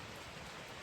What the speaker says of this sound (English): I'm not sure if you can hear the rain or not, but it's still raining.